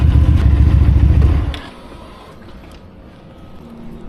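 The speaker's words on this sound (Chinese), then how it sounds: "说实话，排气有点吵" A VOGE sports cruiser motorcycle's exhaust rumbles loudly and steadily for about a second and a half, then drops off to a quiet idle background.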